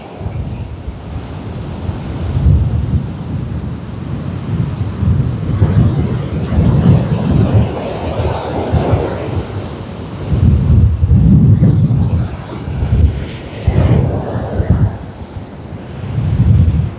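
Rough sea waves surge and crash on a Jaffna beach in repeated heavy, rumbling bursts, mixed with strong wind buffeting the microphone, loud and close with no talk.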